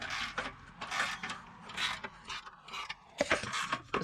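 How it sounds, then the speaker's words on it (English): A hand ratchet clicks in short irregular bursts while tightening bolts on a heat exchanger in an Audi 3.0T S4/S5, close and fairly quiet, with faint rubbing and scraping of metal between the turns. "take a ratchet on this side, on the outside right here, and just start turning it"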